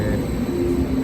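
A train pulls into a station in Italy, giving a steady, loud rumble with a low mechanical hum that holds level through the brief moment.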